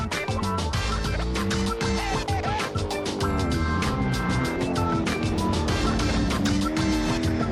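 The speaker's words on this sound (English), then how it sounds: "we can finally make this 358 cubic liter V8 engine scream of its heart content" Loud, continuous roar of a 358 cubic inch V8 in a Camaro Le Mans race car in Assetto Corsa, revving hard and screaming at high rpm for the whole stretch, with gear changes and no speech.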